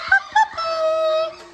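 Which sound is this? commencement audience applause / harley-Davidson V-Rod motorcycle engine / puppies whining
puppies whining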